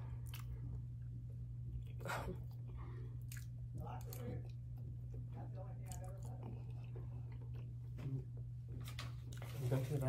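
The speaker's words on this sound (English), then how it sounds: "What are you eating? It's the garlic bread." Garlic bread being chewed alongside baked penne pasta in a close, quiet eating session, with soft wet bites and crunches over a steady low hum and faint speech now and then.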